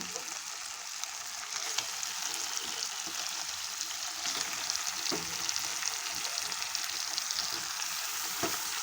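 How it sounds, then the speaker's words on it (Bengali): Chicken gizzards, livers and feet sizzle in a hot pan, a loud, continuous frying hiss with occasional crackles and stirring scrapes, no voices. "এখন ধুয়ে রাখা স্টমাক মেটে দিয়ে দেবো, সাথে আছে 4টে পা।"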